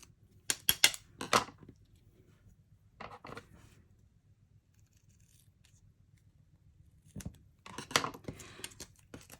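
Scissors snip washi tape in short, crisp clusters of cuts at the start and the end, close by, with quiet pauses between and a few faint handling taps.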